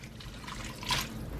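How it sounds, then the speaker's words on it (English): A cup of water is poured into a cooking pot, a steady close trickle with a brief louder splash near the end, no talking over it. "next I'm going to put about a cup of water"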